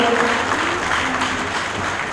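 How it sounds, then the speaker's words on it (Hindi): Warm, steady applause from a seated audience welcoming a guest onto the stage at a community gathering, a continuous crowd of clapping hands with faint murmur underneath. "सरिता बौद्ध जी जोरदार तालियों से स्वागत करें"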